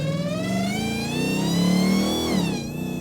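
A 1,000 hp supercharged Hellcat Charger engine revs hard, its loud, rising supercharger whine layered over a deep engine roar that climbs steadily and then drops off near the end.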